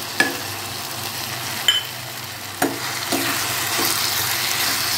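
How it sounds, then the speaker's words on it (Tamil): Grated coconut and tomatoes sautéed in a pan, a steady close sizzle with a few sharp scrapes of a spoon against the pan. "இப்போ இது கூட தேங்காய் திருவலையும் போட்டு வதக்கிக்கலாம்."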